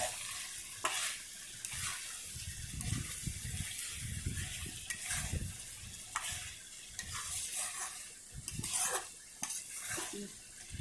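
Chicken and chili powder being stirred in a frying pan, a spoon scraping and clinking against the metal in repeated strokes over a steady low sizzle, close and fairly quiet.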